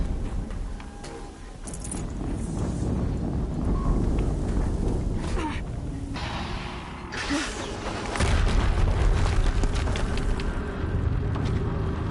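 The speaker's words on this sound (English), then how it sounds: "Another explosion." Deep booming explosions in Horizon Zero Dawn roll through a loud, dense battle din, with heavy low rumble swelling in bursts across the scene.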